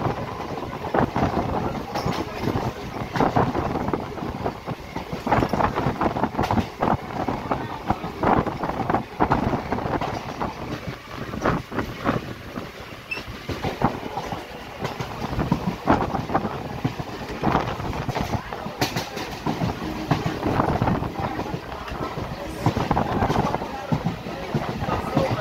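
A Sonarpur to Canning local train running on rails, a steady rumble with rhythmic clatter and wind noise throughout, loud and continuous.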